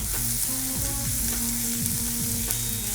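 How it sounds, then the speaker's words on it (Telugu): Green chillies fry in a pan for cabbage chutney, giving a constant close, bright sizzle and crackle with faint tonal scraping as they are stirred, steady throughout with no voices. "ఇప్పుడు పచ్చిమిర్చి కూడా వేసేసుకొని మనం పచ్చిమిర్చి కొంచెం కలర్ మారే వరకు కుక్ చేసుకోవాలి"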